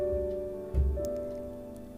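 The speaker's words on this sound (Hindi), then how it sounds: "बारिश बहुत तेज हो रही है" Heavy rain falls steadily through a Hindi monsoon audio story, a soft wash of rain under a sustained tonal music bed, with one low thud near the start and no talking.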